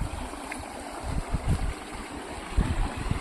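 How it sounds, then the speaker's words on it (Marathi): Water rushing and gurgling steadily nearby, with low rumbling bursts rising and falling throughout; no voices. "धुवायला तुम्ही बघू शकतात, पाणी एकदम वाहत आहे"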